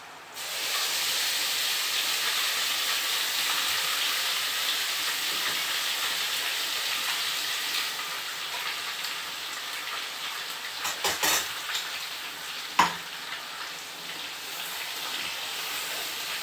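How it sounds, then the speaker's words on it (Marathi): Spiced masala for misal pav, with red and black chilli powder and salt, sizzling in a pan as a steady, close hiss of frying, with a few clinks of stirring near the end and no talk. "मसाला परतून झालाय चांगला"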